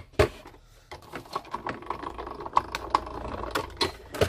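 A die-cutting machine presses new Action dies through card stock, giving a quick series of sharp, dry clicks and knocks at close range with no talking.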